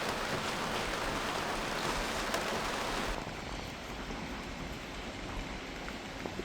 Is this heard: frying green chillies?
no